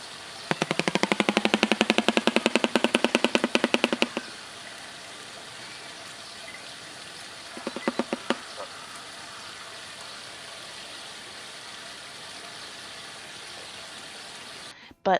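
Shoebill stork makes rapid, loud bill-clattering bursts like machine-gun rattling for several seconds, followed by a shorter, fainter clatter burst against a background of rushing water and ambient noise.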